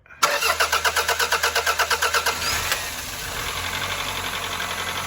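A Toyota Carina II that has sat abandoned for eight years cranks with a rapid rhythmic whirring of the starter, catches after about two seconds and settles into a rough, steady idle, loud and close.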